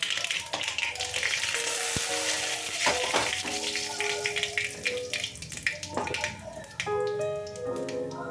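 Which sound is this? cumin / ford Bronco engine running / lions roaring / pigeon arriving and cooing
cumin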